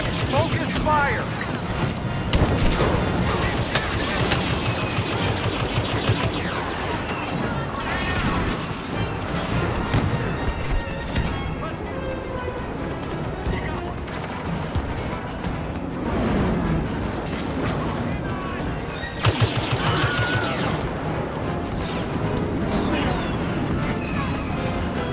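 Continuous blaster fire and explosions in a Star Wars Battlefront battle against an AT-AT walker, a dense, loud barrage of booms and shots with voices calling out over it.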